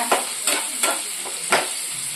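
Prawns fry in a pan for a tamarind prawn curry, giving a steady close sizzle broken by several soft stirring scrapes spaced about every half second to second.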